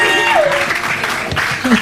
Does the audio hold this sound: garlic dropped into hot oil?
no